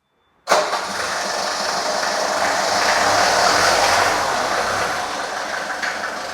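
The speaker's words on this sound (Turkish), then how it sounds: "Bir motor seslerini dinleyelim." A Mercedes W210 E200 Kompressor engine starts abruptly and settles into a steady, even idle that holds close and loud to the end.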